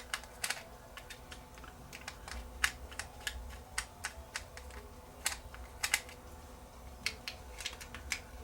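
Small screwdriver clicks and scrapes while a screw is worked out of a Mustool MT13SPRO digital multimeter with IR thermal camera, a faint, quiet series of irregular sharp ticks with no speech.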